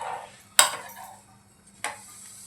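A radish paratha cooks on a hot pan in a home kitchen. Two sharp clanks of a utensil against the pan stand out over a faint, steady sizzle.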